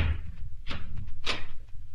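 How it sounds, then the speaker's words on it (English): A wooden door, the door of Noah's ark, swings shut with a couple of soft knocks and thuds, heard close and alone with no talk. "Noah and his family went into the ark and locked the door behind them"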